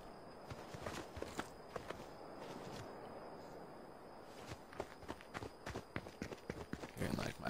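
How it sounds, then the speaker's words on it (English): Footsteps in a video game crunch in a steady walking rhythm, close and fairly loud, over a constant ambient bed, speeding up and growing heavier toward the end. "Hearing like my own footsteps."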